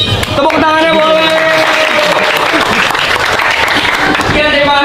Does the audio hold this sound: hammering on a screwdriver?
no